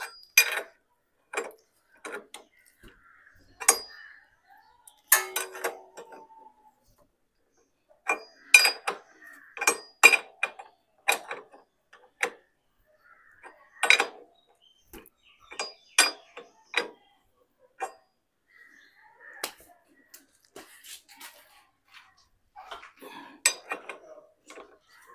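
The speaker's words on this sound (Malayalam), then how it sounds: "ഇനി ഇതിനെ ടൈറ്റ് ചെയ്യാൻ 30-ൻ്റെതാണ്. അപ്പോൾ എൻ്റെ സ്പാൻഡർ വേണം." A spanner tightens the 30 mm rear brake nut on a Royal Enfield during an 8000 km brake service, giving sparse, close metallic clicks and clinks in irregular bursts against a quiet background, with no talking.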